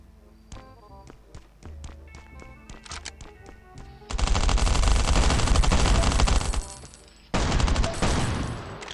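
Gunfire in Last Island of Survival: scattered single shots at first, then a loud sustained burst of rapid automatic fire, a brief pause, and another heavy volley.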